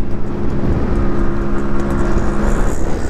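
A Yamaha RX 100 motorcycle engine runs loud and close with a steady, buzzing drone that holds high throughout, with no talking over it.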